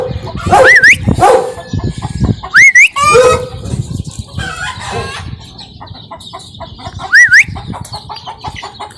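Chickens and a rooster cluck and crow loudly and close by in a backyard, with a dog barking in the mix, the calls overlapping in busy bursts.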